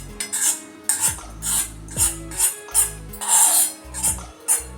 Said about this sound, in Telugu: ఈ బూందీని అందులో వేసి దగ్గర పడే వరకు కలపాలి